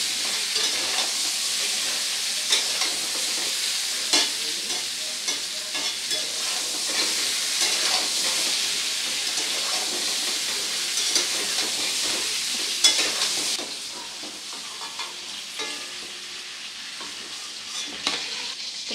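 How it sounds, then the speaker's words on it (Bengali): Pointed gourd (potol) being stirred with salt and turmeric in an oily pan, a steady frying sizzle with continual scraping and stirring strokes throughout, close and fairly loud, no talking. "এবারে নুন হলুদটাকে পটলের সাথে খুব ভালোভাবে মিশিয়ে নেব।"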